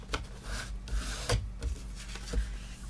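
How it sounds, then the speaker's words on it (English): A paper gift box has its score lines burnished with repeated rubbing and scraping strokes, close and fairly soft, with small taps and handling noises between the passes. "now you can go ahead and you can burnish in your score lines"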